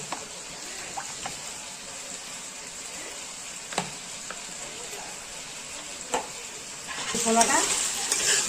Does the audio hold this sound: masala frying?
yes